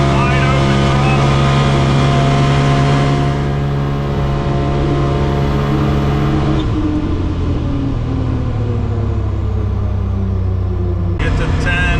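A 2021 Polaris RZR Pro XP side-by-side fitted with an Aftermarket Assassins S3 clutch kit runs at wide open throttle, a loud, steady engine drone whose pitch shifts partway through, with a voice speaking over it.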